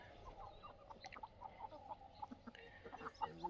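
Free-range desi chickens roam a poultry farm, giving soft scattered clucks at a distance, faint and irregular over low background noise, with a quiet voice now and then.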